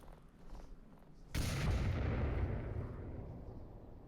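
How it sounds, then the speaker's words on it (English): Grenades going off in the VR shooter Onward during a competitive match: a sudden loud blast booms and rolls on as a sustained rumble, after a quieter stretch of distant gunfire and ambience. "Nades are just going on off all over the place"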